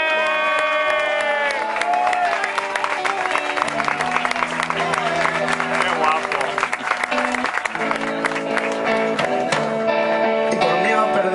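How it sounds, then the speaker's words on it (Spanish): A concert audience at a show in Valencia claps and cheers loudly and steadily, the applause running throughout alongside music and voices. "Este aplauso para Iván"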